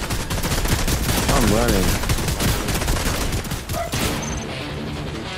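Rapid automatic gunfire from a turret in a video game, loud continuous bursts filling most of the moment, with excited voices talking over it.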